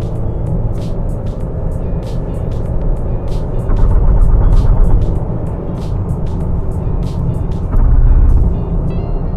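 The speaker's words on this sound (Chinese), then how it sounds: "这个是普通低档加速" A 2020 Honda Accord accelerates in normal low gear, heard from inside as a steady low engine and road rumble that swells twice as it pulls, with no talk.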